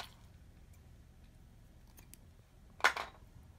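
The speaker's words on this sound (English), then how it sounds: "I'm going to cut a nice long piece." A single crisp snip of scissors cutting a long piece of yarn, a short close cut in a quiet room with faint handling noise before it.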